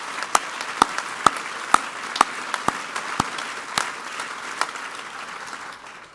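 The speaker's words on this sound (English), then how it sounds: "So join me in giving all of our honorees another round of applause" An alumni awards audience gives its honorees a round of applause: a moderate, steady wash of clapping with a few louder, distinct close claps standing out, fading slightly toward the end.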